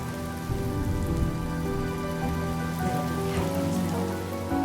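Steady rain pours down in the video game Honkai Star Rail, a dense continuous hiss with no thunder, layered over a tonal in-game music bed throughout.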